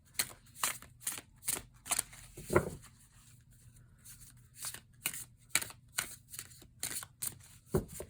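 Oracle cards are shuffled in quick, rhythmic riffles, each burst a crisp flutter of flicking card edges, close and fairly quiet with no talking.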